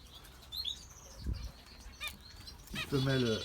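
Zebra finches in an aviary make short nasal chirps and brief wing flaps, close by but fairly quiet, with a louder burst of calls near the end.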